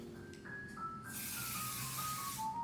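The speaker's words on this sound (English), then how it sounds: "So just one little spray is fine." A single soft spritz of makeup setting spray makes a broad, airy hiss. It rises about a second in and holds for over a second, while faint tones sit underneath.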